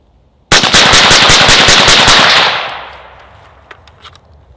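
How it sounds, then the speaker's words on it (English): A rifle fires a rapid 10-round string through a Surefire SOCOM RC2 suppressor, each sharp report following the last in a fast even rhythm, loud and close, before the sound fades into a lingering outdoor tail and a few faint clicks. "10 rounds, minute cool down or heat dissipation, and then another 10 round string of fire"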